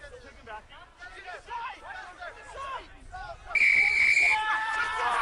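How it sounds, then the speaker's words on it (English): A referee's whistle in a men's rugby national championship match blows one long, loud, sustained blast after several seconds of commentary and crowd chatter, cutting through the background noise. "The referee's going to whistle penalty there against Old Blue."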